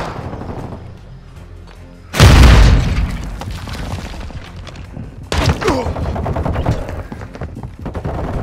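Gunfire and booming explosions in the video game Modern Warfare 2 during a multiplayer hardpoint match, with a loud blast followed by rapid bursts of automatic fire and a second volley, mixed with game voice callouts.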